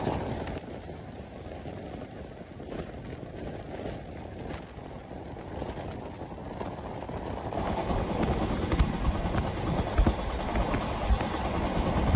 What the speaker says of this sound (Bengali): আরও একটি স্টেশনকে থ্রু পাস করে বেরিয়ে যাচ্ছে আমাদের আন্তনগর রূপসী বাংলা এক্সপ্রেস